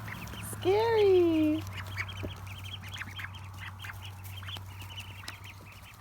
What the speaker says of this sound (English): Got a bunch of ducklings out in the front yard today.